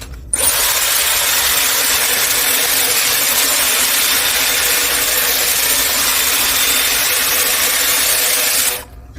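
A Dyson Airwrap hair styler blows a steady, loud rush of air while being drawn down through short hair, running evenly for about eight seconds before switching off, with no speech over it.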